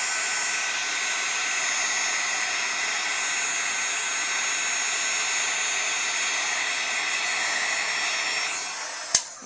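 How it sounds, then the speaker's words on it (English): A heat gun blows continuously at close range while embossing powder on a handmade sympathy card melts, a steady loud whooshing drone that ends with a short click as it shuts off. "I'm going to bring my heat gun back in, and we are going to go ahead and emboss this as well"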